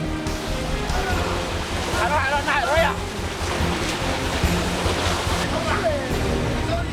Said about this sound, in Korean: 결국 김기호 선장이 배를 좌우로 흔들어 파도를 일으켜 저인망 어선을 흔드는데요